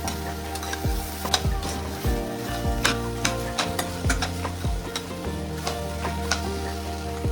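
Diced yam and grated coconut frying in a pan, a spoon repeatedly scraping and knocking against the metal over a continuous close sizzle, with a steady irregular rhythm of strokes.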